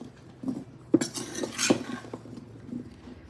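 Cornmeal and self-rising flour are stirred together in a bowl, with a utensil clinking and scraping against the sides in a few close, uneven bursts and no speech.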